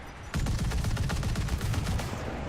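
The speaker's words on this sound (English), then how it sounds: "with some machine gun fire from the triple 50 cals on this thing" Triple .50 caliber machine guns firing in War Thunder, a loud, continuous rapid burst of gunfire starting abruptly and rattling steadily to the end, close and alone without talk.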